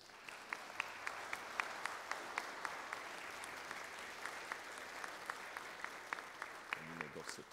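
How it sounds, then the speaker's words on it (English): A congregation at a Sunday morning worship service breaks into steady applause, with many hands clapping continuously for the whole stretch and a low voice briefly rising near the end. "Let us celebrate with applause."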